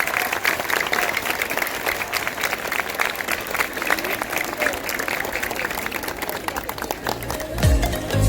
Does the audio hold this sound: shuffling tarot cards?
no